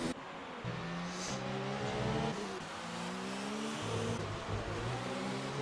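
Race cars in a racing video game, including a Ferrari and a McLaren, whine past with rising and falling engine tones and gear shifts, several cars overlapping at moderate volume.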